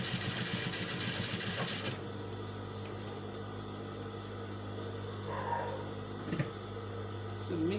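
A sewing machine stitches a padded princess-dart bustier, running in a dense rhythmic burst for about two seconds before the motor settles into a steady low hum.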